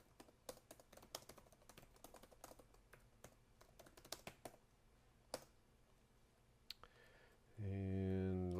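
Someone types a short C++ program on a computer keyboard, giving quiet, irregular key clicks with a few sharper taps. A louder tonal hum joins near the end.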